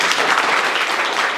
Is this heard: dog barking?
no